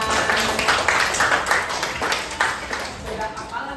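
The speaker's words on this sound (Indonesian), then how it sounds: "tepuk tangan untuk kita semua" Elementary school pupils in a classroom clap their hands in a loud, busy burst of applause, with some voices mixed in among the claps.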